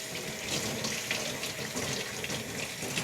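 Green onions are rinsed under a kitchen faucet, the tap water running steadily and close up throughout.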